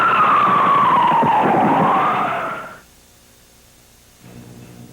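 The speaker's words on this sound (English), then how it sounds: "you can hear the sound of police sirens arriving on the scene" Police sirens arriving at a South Beach shooting scene, captured on a 1997 911 call recording: a loud wailing siren sweeps up and down for nearly three seconds, then cuts off, leaving faint background noise and a soft low rumble.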